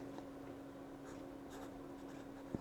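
A fountain pen filled with Ferris Wheel Press ink scratches across paper in short, soft strokes, close and quiet over a steady background hum.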